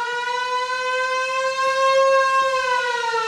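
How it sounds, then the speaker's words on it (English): An air raid siren rigged up in a Texas underground survival bunker wails at a loud, steady pitch with a faint slow drift, filling the whole stretch alone. "that's an air raid siren right there"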